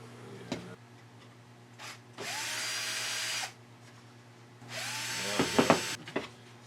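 A Dremel rotary tool fitted with a small grinding wheel spins up in two separate bursts of high, bright, hissing whine, each lasting about a second, with rising tones at start-up and quieter clicks and knocks between them.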